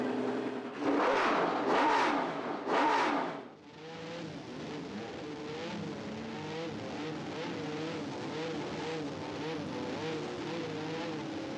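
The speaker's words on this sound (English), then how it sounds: "Sound of the Matra engine was just spectacular." A Matra Formula 1 racing engine screams past in loud bursts, then settles into a steady high-pitched howl with rising and falling revs.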